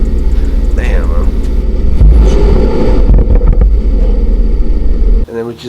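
A 1989 Toyota pickup's engine idles loudly up close after a fuel pump replacement, a steady rumble under a voice before it suddenly drops away near the end.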